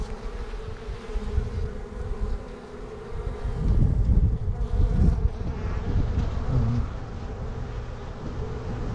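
Worker honeybees cleaning cells inside a beehive make a dense, continuous close-up buzz that swells and fades as they move, with some wind noise and no talking.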